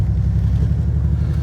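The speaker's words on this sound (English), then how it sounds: "You can hear it's still misfiring" A 1999 Ford Ranger XLT 4x4 with the 4.0 engine idles roughly with a misfire, giving a steady, loud low rumble that pulses unevenly throughout, with no voices.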